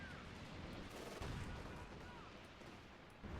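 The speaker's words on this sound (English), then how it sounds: "now they're just using artillery fire and killing your stuff" Faint, distant artillery fire in Company of Heroes 2, a dull rolling rumble of shell impacts that swells once, with a muffled thump at the end.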